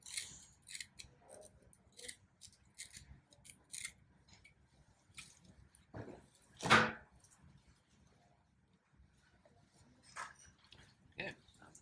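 Scissors snip through a plaster slab to cut an elbow cutaway for a dorsal wrist backslab, giving a run of short, fairly quiet crisp cuts with one louder, longer cut midway.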